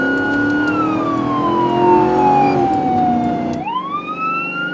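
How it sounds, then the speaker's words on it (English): A loud, close police emergency siren, responding lights and sirens, wails in a slow, falling tone, then sharply rises again, with engine rumble beneath. "Code 3, lights and sirens."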